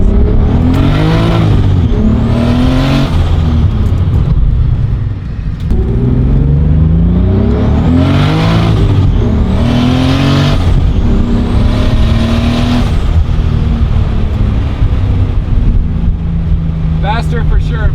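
A turbocharged BMW E36 M3 roars at full power on a dyno, its engine note climbing and falling through repeated loud revving pulls, with voices talking over the run.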